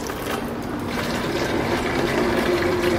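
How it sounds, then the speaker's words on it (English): Water pouring onto flowers in a garden at the Botanical Gardens in D.C., a steady gushing splash lasting throughout, fairly close and unbroken. "Do you want to water some flowers?"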